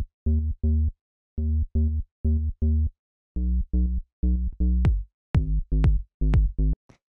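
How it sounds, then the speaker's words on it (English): Square-wave synth bass through a low-pass filter plays a straightforward deep house line: short, rounded staccato notes in a syncopated repeating rhythm, alone and upfront, growing slightly brighter toward the end. "So this is a pretty straightforward bass."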